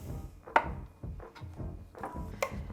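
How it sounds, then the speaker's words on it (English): Several quick knife strokes through whole boiled eggs for a rough chop, each a soft thud on a board, spaced irregularly with one sharper knock near the start and another near the end, close and quiet. "I like to give my eggs just a really quick rough chop before we get started"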